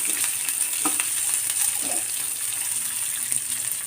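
Garlic chutney ingredients, including roasted gram, frying in a pan for a Madurai roadside-style chutney, a close continuous sizzle with occasional scrapes and knocks of stirring, no voices.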